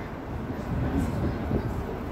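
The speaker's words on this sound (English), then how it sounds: "this is the big train station" Steady rumbling ambience of Graz central train station in Austria, a low rolling train noise filling the hall with no clear voices.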